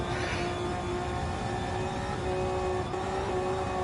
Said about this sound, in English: Car sounds very laboured in sixth there, didn't it?